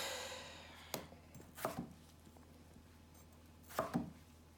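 A knife chops vegetables into even pieces on a board in a quiet kitchen while stew is being made, giving a few sparse, crisp chops spaced a second or more apart, close and clean with no talk.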